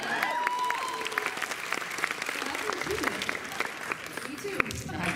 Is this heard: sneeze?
no